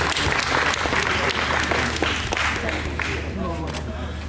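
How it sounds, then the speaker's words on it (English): An audience at an international lightweight boxing contest bursts into loud, sustained applause that stays steady throughout, with an announcer's voice over the clapping. "Let's give the two boxers a big round of applause."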